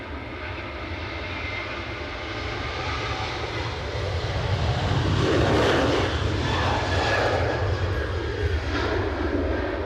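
A Norwegian jet airliner departs Edinburgh Airport, its engine roar building from a steady rumble to a louder swelling thunder near the middle before holding, with a voice briefly heard over it.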